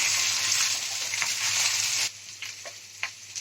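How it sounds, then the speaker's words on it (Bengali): Cooked rice stirred and fried in ghee for egg pulao, a loud dense sizzle that drops off sharply partway, followed by quieter scrapes and taps of a spoon in the pan. "এবার আমি ঘিয়ের সঙ্গে ভাতটা একটু নেড়ে চেড়ে দিচ্ছি"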